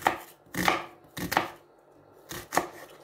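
A knife chops onion on a cutting board in a home kitchen, five crisp, close thuds in an uneven rhythm with short quiet gaps between strokes.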